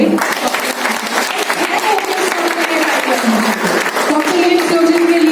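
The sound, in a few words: audience applause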